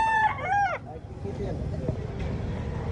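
A rooster at a chicken expo in Consolacion, Cebu, gives one loud, close crow, then crowd babble and voices continue underneath.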